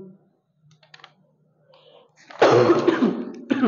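A person with a lingering cough sits through near silence broken by faint clicks, then breaks into a loud, close burst of harsh coughing and throat clearing that lasts over a second.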